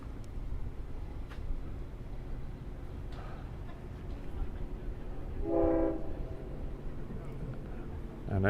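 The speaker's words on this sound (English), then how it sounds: "And there's a horn we hear from the train approaching." A Long Island Rail Road train sounds its horn as it approaches, a brief distant blast rising over a low steady rumble of background noise.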